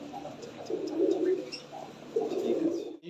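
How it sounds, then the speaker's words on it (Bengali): Racing pigeons coo softly nearby in two low, throaty rolling phrases separated by a short pause, with faint background ambience and no speech. "এগুলো সব কিন্তু বাজির পায়রা তাই না?"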